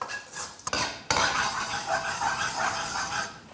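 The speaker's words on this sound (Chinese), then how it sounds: "现在锅里面来一点油，下入糖，先炒一个糖色。" Sugar stir-fried in oil in a wok to make caramel colour: a steady sizzling hiss with metal spatula scrapes and clinks against the pan, fairly close, with no voice.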